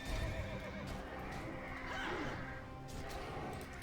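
A horse in the World of Warcraft dungeon Shadowfang Keep lets out a loud, sustained neigh after being hit with a gouge attack, layered over busy in-game clatter and hoofbeats.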